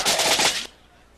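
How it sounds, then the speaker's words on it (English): A cartoon laser gun fires a rapid, buzzing burst of about two-thirds of a second, loud and close, then cuts off abruptly into quiet background. "Oh, it's more than just a gun, Lair."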